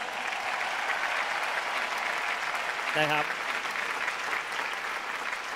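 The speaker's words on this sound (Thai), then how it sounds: "ขอเสียงปรบมือให้กับคุณประกิตโจยโสด้วยนะครับปรบมือให้อัพไลน์ผมหน่อยครับดังๆเลย" Steady crowd applause at an Amway diamond recognition ceremony honoring an upline, sustained and moderately loud, with a voice briefly speaking over it.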